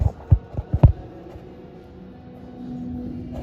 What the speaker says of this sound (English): So we're vac testing it now